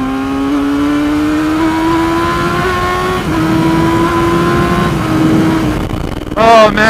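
A Yamaha R6 sport motorcycle accelerates with a loud, steady, rising engine whine held close for several seconds, ending in a brief burst of higher revving.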